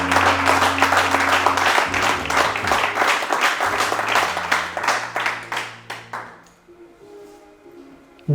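An audience at a French-language church gathering applauds, dense loud clapping and cheering over a sustained organ or keyboard chord, gradually thinning and fading out over the last few seconds.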